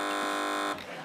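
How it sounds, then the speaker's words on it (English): A quiz show buzzer sounds once, a flat electronic drone that cuts off after under a second, clear and on its own. "Fingers on buzzers."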